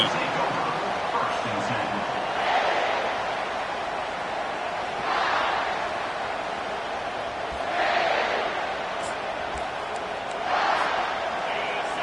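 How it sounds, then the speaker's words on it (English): Roaring football stadium crowd at a Clemson game, a loud continuous din that swells in repeated surges of cheering every few seconds. "This crowd bringing an ear-splitting welcome to their visitors"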